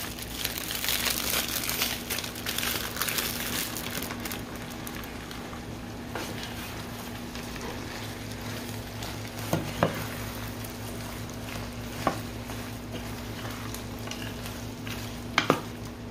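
Diced ham frying in a pan for a simple home dinner, giving a steady, moderate sizzle with soft crinkling and a few brief clinks of stirring, no voices.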